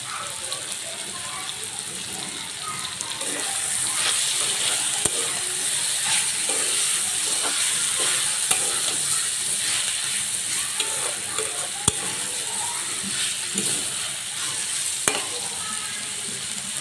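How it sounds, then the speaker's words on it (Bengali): Potatoes and tomatoes sauté in a pan for a fish curry, giving a steady, close sizzle with repeated scraping stir strokes throughout and no talking. "কিছুক্ষণ টমেটোটা দিয়ে কষায় নেব"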